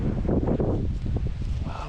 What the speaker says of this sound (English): Every now and again the wind just gusts along here